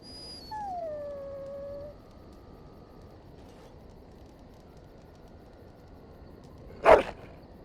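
A single drawn-out dog howl sliding downward in pitch in the video game Dragon Age Origins, followed by quiet ambience and one short sharp bark near the end.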